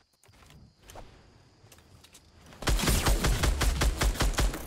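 The player's rapid gunfire in Fortnite, a fast run of loud, closely spaced shots that starts abruptly after a quieter stretch with a few footsteps and clicks.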